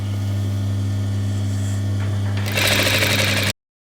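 A domestic sewing machine hums at low speed, then breaks into a loud, rapid stitching run near the end as it sews bias binding around a dress neckline, with no speech over it.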